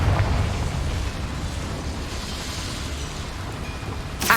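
Confringo fire-blast spell in the Hogwarts Legacy game, set in a small mine: a dense, rumbling explosive roar sustained throughout at steady loudness, with a sharp burst at the very end.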